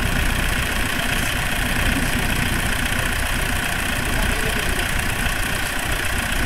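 A SPAL brushless cooling fan fitted to a Mitsubishi runs at 20% speed, giving a steady, unbroken whir with broadband airy noise and a low hum that holds level throughout.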